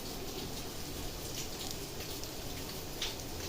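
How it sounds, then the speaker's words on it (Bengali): Steady rain falls on a rainy, overcast day during home cooking, a continuous hiss with scattered louder drop impacts, fairly close and constant with no talk. "এখনও দেখুন কি পরিমাণ বৃষ্টি"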